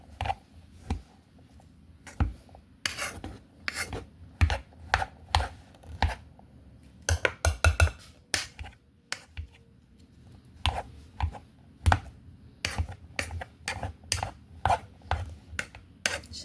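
Seasoned potatoes being smashed for tacos: repeated sharp, close thuds in irregular bursts, sometimes quick clusters, with quiet gaps between.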